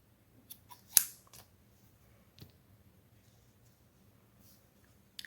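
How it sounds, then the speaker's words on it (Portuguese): A single crisp snip of scissors cutting pink crochet yarn while finishing a small crocheted baby shoe, with a few faint handling clicks before it and a quiet room around it. "Vou cortar o fio."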